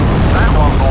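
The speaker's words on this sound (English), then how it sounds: "Very satisfying explosions" Loud explosions from the World War II strategy video game Steel Division Normandy 44 as Royal Air Force aircraft strike, a dense rumbling boom filling the whole second with low-end roar.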